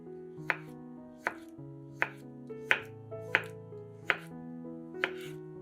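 A knife slices a small boiled beetroot into thin rounds, seven sharp crisp chops falling at a steady rhythm and heard close and clear, with a quiet tonal hum underneath.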